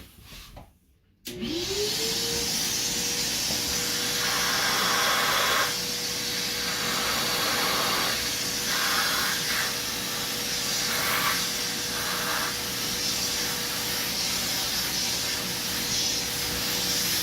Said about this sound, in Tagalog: vacuum it.